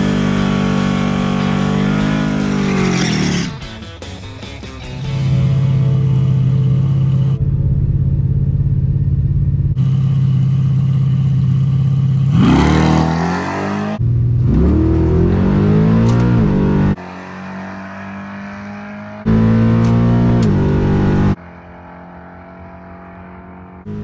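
Chevrolet Malibu drag car on a quarter-mile pass, its engine roaring loud at high revs with sharp gear shifts, then fading between abrupt cuts.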